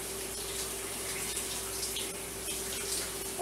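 Tap water running into a kitchen sink while rinsing during spaghetti preparation, a continuous close hiss and splash with a steady faint hum beneath, no speech.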